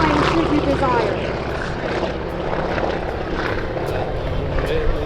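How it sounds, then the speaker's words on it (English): An AT-6 Texan propeller warbird takes off at an air show, its loud, steady engine drone filling the air continuously without letup, with crowd or commentary noise mixed underneath. "But here he is, to your left, taking off."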